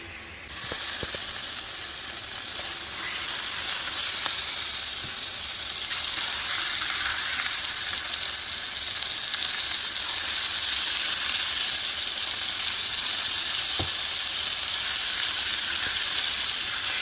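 Eight pork chops laid into a big preheated pan sear with a loud, steady hiss and sizzle that holds for a long stretch, with a few faint clicks and no talk.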